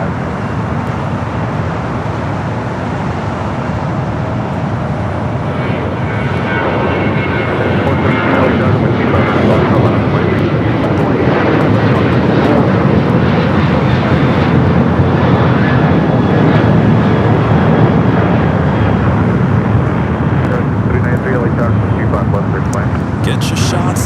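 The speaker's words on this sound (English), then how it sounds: "We got that Sun Country 737-800." A Sun Country Boeing 737-800 charter jet at Los Angeles International Airport, a loud steady engine roar that swells through the middle and holds throughout, with traffic noise and voices underneath.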